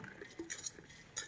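A spoon mixing banana blossom stir-fry in a bowl, making a few quiet metallic clinks and scrapes in brief separated bursts, close and faint.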